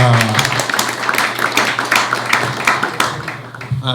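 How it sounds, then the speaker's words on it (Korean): An audience at a Busan fair-election campaign lecture claps to welcome a speaker, a patchy run of individual claps close by, with a brief voice at the start. "박수로 모시겠습니다"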